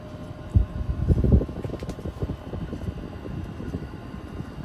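A Hunter 52-inch low profile ceiling fan with bad bearings runs on high speed, giving a steady low whooshing rumble with faint irregular knocking throughout, close and fairly quiet, no talking.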